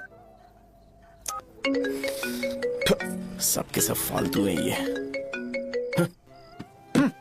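A phone ringtone plays as a repeating melodic electronic tune, loud and close, while someone speaks over it and a few sharp knocks sound around it.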